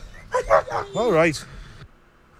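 A police dog makes an odd, howling, whining vocal sound, close and loud, with someone speaking briefly over it.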